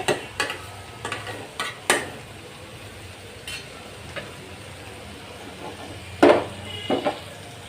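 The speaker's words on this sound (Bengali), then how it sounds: "ঢাকনাটা উঠিয়ে আবার একটু নেড়ে চেড়ে দিচ্ছি। তো এইভাবে কিছুক্ষণ আর কি নেড়ে চেড়ে ভাজিটা করে নিব" Ash gourd bhaji is stirred in a pan over the heat, with intermittent scraping and clinks of the spatula against the metal over a soft frying hiss. The strokes come close and irregular, one sharper scrape near the end.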